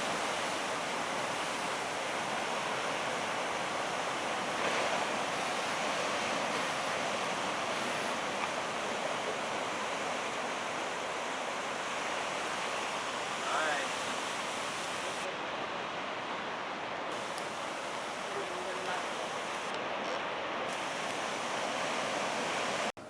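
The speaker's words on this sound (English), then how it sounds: "Waves break." Ocean surf breaking along the coastline of the Great Ocean Road: a steady, broad roar of waves and white water that lasts throughout, with some wind noise mixed in.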